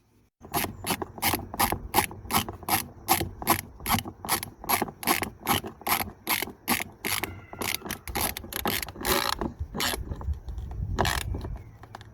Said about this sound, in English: next we're gonna fit these two T30 bolts.